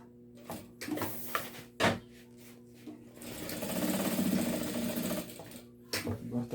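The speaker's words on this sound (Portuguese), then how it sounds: "Em vez de ficar dando muito retorno na costura" An industrial sewing machine stitches a delivery bag in bursts, short runs of whirring broken by brief stops, then one longer steady run before it pauses and restarts briefly; close and fairly loud, with no talk.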